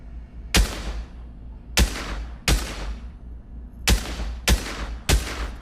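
SCAR rifle in the Pavlov shooter game firing six sharp, loud single shots at uneven intervals, each with a short decaying tail and no talking.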